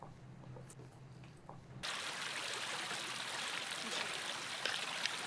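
A stream's flowing water starts faintly, then swells abruptly into a steady, full rushing and trickling that carries on without voices.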